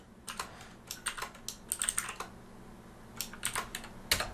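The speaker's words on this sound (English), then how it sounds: "Oop, can't type right now." Rapid bursts of typing on a computer keyboard while entering a Linux command to add a user to the Docker group, clustered keystrokes with short pauses, close and fairly quiet with no talking.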